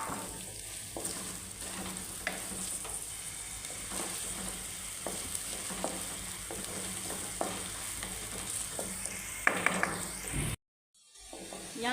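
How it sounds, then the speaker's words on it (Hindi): Onions fry and sizzle in hot oil in a pan for a home-style aloo baingan, a steady close hiss broken by regular stirring scrapes, then a brief silent gap near the end. "अब हम प्याज को थोड़ा सा फ्राई करेंगे।"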